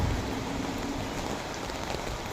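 Steady rain falls in a village, a dense, even hiss of drops with no breaks and no voices over it.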